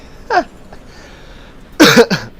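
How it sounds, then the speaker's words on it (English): A single person's cough blended with a laugh, one short burst followed by a louder double burst close to the mic, with quiet room tone between. "I went to laugh and then I like coughed at the same time."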